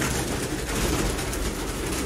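Pigeons from a flock of 120 birds offered for sale in Sialkot coo softly beneath a steady, even wash of broadband background noise that continues for the whole short stretch.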